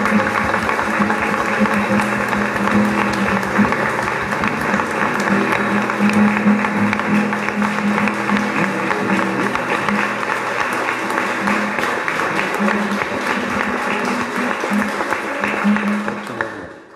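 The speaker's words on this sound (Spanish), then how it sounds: "Un fuerte aplauso al Padre." A congregation at a Catholic parish Mass gives the priest long, loud, sustained applause, a dense, steady clapping that continues for many seconds before ending abruptly.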